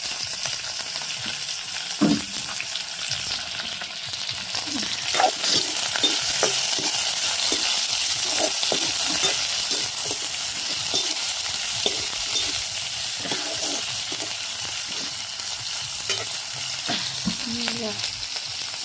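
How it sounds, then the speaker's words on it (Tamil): Onions and green chillies sizzling in an oiled pan, with a steady frying hiss throughout and repeated scraping stirs of a spoon, close and continuous, no talk. "வெங்காயமும் பச்சை மிளகாயும் போட்டு நல்லா வதக்கும்"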